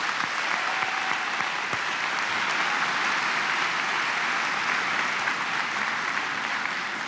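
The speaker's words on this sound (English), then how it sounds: "Can we give them a round of applause, please?" A graduation audience at a high school commencement ceremony gives a sustained round of applause, broad and even clapping from many hands with no speech over it.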